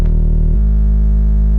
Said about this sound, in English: Yeah, that's distortion.